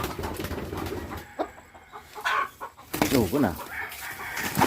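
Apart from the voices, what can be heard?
Spangled Hatch gamefowl rooster clucking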